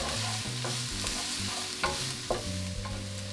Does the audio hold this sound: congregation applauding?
no